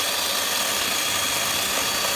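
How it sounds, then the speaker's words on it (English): A Kobalt 40-volt cordless electric chainsaw with a 12-inch bar runs steadily, a continuous whirring drone of the motor and chain held at an even level throughout, with no talking. "40 volt 12-inch bar electric chainsaw. Doesn't spin very fast. Stops right when you let go of the trigger."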